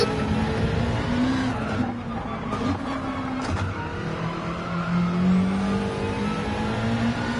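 Subaru WRX Gr3 race car engine in Gran Turismo 7 at Deep Forest Raceway, a steady droning engine note with shifting pitch and brief dips, continuous and fairly loud with no talk.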